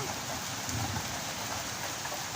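Soft, steady rain hisses evenly throughout, a constant wash of falling drops with no voices.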